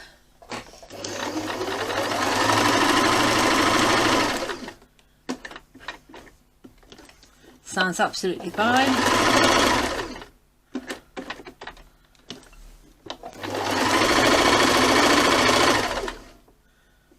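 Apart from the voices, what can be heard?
sewing machine sewing straight stitch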